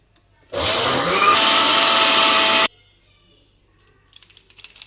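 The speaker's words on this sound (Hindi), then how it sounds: "अब हम इसको ब्लेंड करेंगे।" A blender whirs loudly for about two seconds, blending an apple and banana smoothie with sugar, then cuts off abruptly and leaves faint clicking and rustling.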